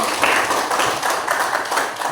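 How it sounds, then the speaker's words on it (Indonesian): A group claps for group 2 in a classroom, several short bursts of hand clapping in a loose rhythm, close and fairly loud. "Beri tepuk tangan untuk kelompok 2"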